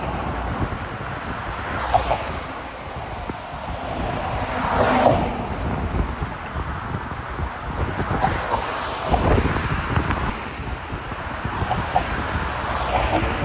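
Strong wind buffets the microphone by a roadside while hitchhiking, producing loud, rumbling gusts that swell and fade unevenly, with whooshing surges around the fifth and ninth seconds.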